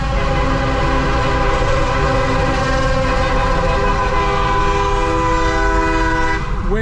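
Decorated party buses sound long, sustained multi-tone horns in Medellin traffic, loud and steady for several seconds over a low road rumble, with no talking.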